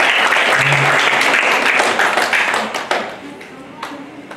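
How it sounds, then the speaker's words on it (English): A church congregation at a midweek service claps loudly for God, a dense round of applause that tapers into scattered claps with voices murmuring underneath. "Can we give a mighty clap of hands to our God?"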